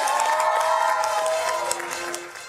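A studio audience on a morning TV show cheers and applauds with energy, shouts and a sustained vocal whoop over clapping that gradually fades out.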